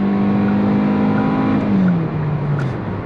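A rental car accelerates at full throttle to pass, its engine droning loud and steady close by, the pitch holding and then dropping slightly as it settles.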